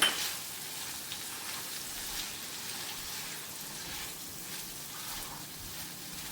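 Fried squid pieces sizzle steadily in a hot pan of ghee masala for a Mangalorean ghee roast, a soft, continuous crackle with faint clinks, no talking.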